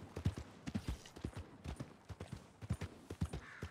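Horse hooves clip-clopping at a steady walk in the video game Red Dead Redemption 2, arriving in a town. The hoofbeats are close, rhythmic and continuous, with faint ambient noise underneath.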